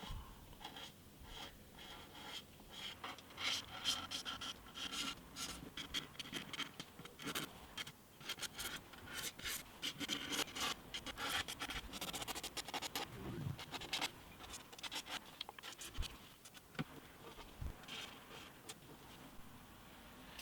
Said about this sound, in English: The selective sanding